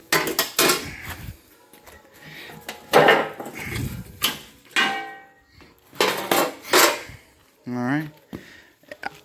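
Covers are popped off a Kubota B3030 tractor during servicing, giving several sharp plastic clacks and knocks spaced out between bursts of someone talking, with a few rattling handling sounds.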